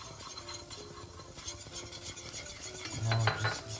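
A utensil scrapes and stirs curry powder and spices into a darkened roux in a pan for Japanese chicken curry, giving soft rubbing and scraping close by with a few light metallic clinks, no talking.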